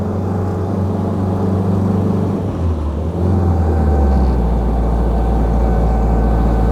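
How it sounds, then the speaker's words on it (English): A WW2 jeep engine, running again after a distributor and timing rebuild, accelerating uphill, a loud steady drone that deepens and swells as the revs build near the end. "See, this thing sounds great. It's pulling up a hill like a champ."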